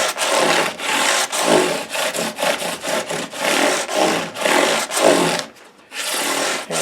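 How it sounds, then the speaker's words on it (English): Guitar frets are sanded with 400-grit paper on a scrub block, a close, rhythmic scratching of quick back-and-forth strokes with a brief pause near the end. "This is our 400 grit, just kind of chasing that back to center with the scrub block."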